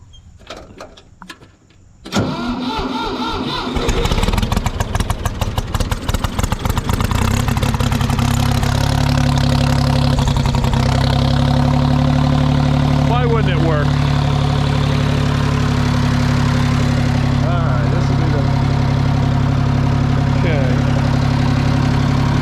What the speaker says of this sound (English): Hopefully the tractor fires up.